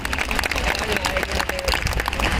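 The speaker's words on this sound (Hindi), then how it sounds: "एक बार मुझे इजाजत दें जोरदार तालियों के साथ," Audience applause at a Babasaheb Ambedkar 135th birth anniversary gathering, a dense steady clapping from a crowd that carries through the whole stretch with some voices mixed in.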